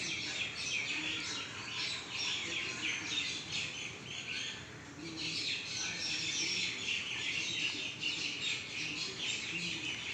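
A flock of myna birds calls continuously in trees after rain, a dense chatter of overlapping chirps and squawks at moderate distance with no talk.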